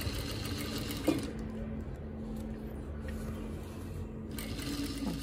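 A domestic sewing machine runs steadily through a thick, bulky trouser hem seam, a continuous close mechanical whir with a brief click near the start and a short slowdown midway.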